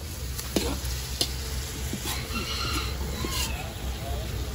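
Pancit cooking in a pan, a steady sizzle with occasional scraping and stirring clatters, while people talk nearby and a bird calls faintly in the background.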